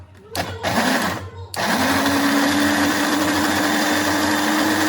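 Mixer grinder whirring steadily as it blends a paste for a paneer dish, starting with a short burst and then running loud and continuous close by.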